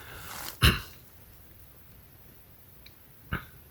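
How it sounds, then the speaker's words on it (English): Two separate coughs outdoors from nearby fire smoke, one sharp and loud near the start and a softer one near the end, with quiet in between. "There's a fire somewhere close by, so I keep coughing."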